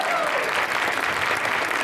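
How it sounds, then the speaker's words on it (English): Audience applause for a volunteer during a featured speaker's talk, a short, steady burst of clapping with a voice faintly audible beneath it. "give a round of applause for Myrna."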